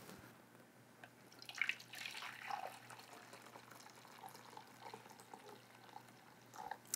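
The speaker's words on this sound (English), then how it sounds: "I'm gonna get 2 cups of hot water." Hot water from an electric kettle pours into a measuring cup, a faint, steady liquid trickle and splash that rises briefly then continues softly for several seconds in a quiet kitchen.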